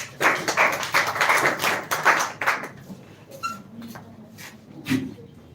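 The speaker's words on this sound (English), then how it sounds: "Clap for him." Audience at a school speech competition grand finale clapping for a speaker, a dense burst of handclaps for about three seconds that fades into scattered taps and faint noises.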